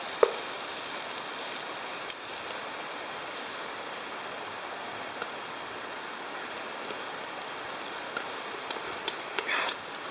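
Gyoza pot stickers fry in a pan on a Trangia camping stove, giving a steady, even sizzle with a few faint pops and clicks. No voices.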